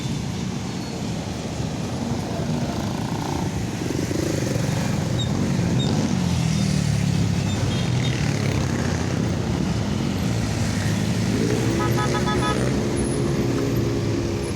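Busy road traffic in Las Piñas near SM South Mall, a dense continuous roar of engines, passing cars and motorcycles, with brief tonal horn-like notes breaking through toward the end.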